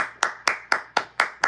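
A single person claps hands six times in a steady, even rhythm, each clap sharp and close, with brief quiet between them and no talking.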